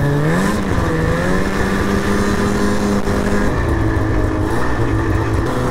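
A 2003 Ski-Doo MXZ 800R Blair Morgan Edition snowmobile runs through deep fresh powder, its two-stroke engine loud and close, droning steadily with rising and falling revs and no talk over it.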